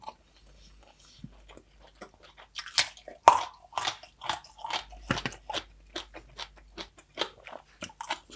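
Close, crisp chewing of grilled pork neck dipped in tamarind sauce, a steady rhythm of wet crunchy bites and mastication in a quiet room.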